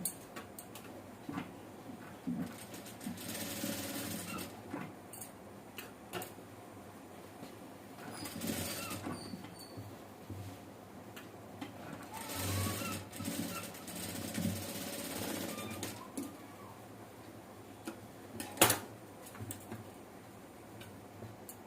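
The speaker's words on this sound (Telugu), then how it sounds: "ఇలా ఇలా పెట్టి రెండు కుట్టు వేసుకోవాలి" A sewing machine stitches a blouse piece with a quiet, rapid ticking that comes and goes in several runs across the span, with soft handling noises between them and a sharp knock near the end.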